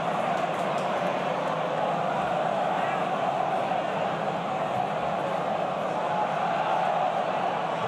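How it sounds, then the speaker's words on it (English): A football stadium crowd at a Middlesbrough v Watford Championship match roars in a steady, far-off wash of noise as fans appeal for a handball, with a commentator's voice over it. "There's a crowd appeal for a handball."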